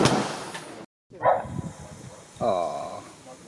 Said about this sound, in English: He still barks at everyone.